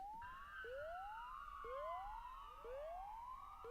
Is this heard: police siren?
yes